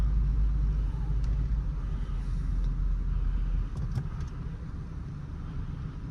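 A Cadillac Escalade tow rig drives slowly up a driveway with a steady, deep low engine rumble, close and continuous, with a few faint clicks and rattles on top.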